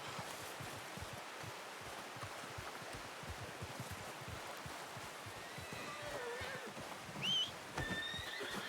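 Horse in Red Dead Redemption 2 gives a short whinny late on, over a steady outdoor bed of hoof clip-clop and rustling ambience.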